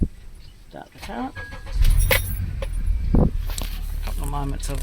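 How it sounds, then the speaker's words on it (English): A car engine cranks and starts up nearby amid handling noises and footsteps, settling into a steady rumbling idle with a person talking over it. "and I start the car up"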